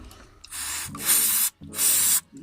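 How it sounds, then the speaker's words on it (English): Three hissing bursts of carb cleaner aerosol spray onto an intercooler pipe, close up, separated by short pauses, with faint rubbing in between. "just literally spraying that carb cleaner onto the pipe and wiping this off"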